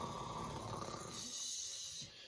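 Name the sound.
snoring sound effect in a bedtime story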